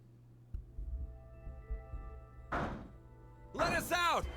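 Muffled thuds of banging on a locked door in the Zero Time Dilemma video game, a handful of dull knocks over a low hum, then two louder bursts of clattering noise.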